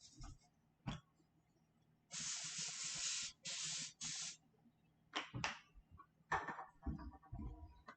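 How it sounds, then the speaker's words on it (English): An oil spray can used in a home kitchen, giving three close, loud hissing bursts of about a second each, followed later by a few shorter sprays and scattered clatter. "I'm gonna lightly spray it with some oil."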